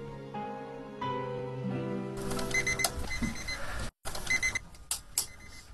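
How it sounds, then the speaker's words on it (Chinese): An alarm clock goes off at 11:40 at night to wake a fisherman before the midnight tide. A tonal chime gives way to loud, repeated bright ringing bursts that stop briefly and then resume, with no voices. "一阵闹铃声将陈荣国叫醒"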